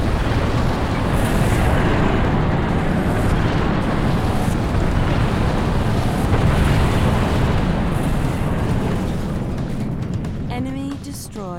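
In the Halo Wars video game, an orbital Spirit of Fire strike fires: a loud, sustained roaring blast with a rumbling low end fills the scene, fading slightly at the close as a short game tone sounds.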